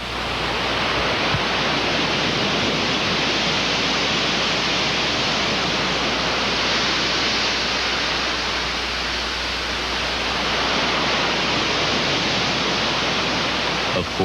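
Continuous roar of rushing water from waterfalls near Murphy, North Carolina, a dense steady wash that stays loud and unbroken throughout, with no voices.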